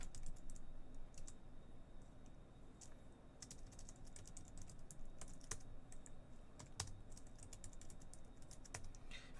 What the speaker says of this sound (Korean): 패스워드를 치는 과정 가운데 보시면